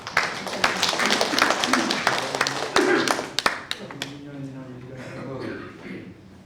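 Audience applause at a Korean book talk concert celebrating a six-author joint anthology, as a society chairman is welcomed to speak; scattered claps mixed with murmuring voices, fading toward the end.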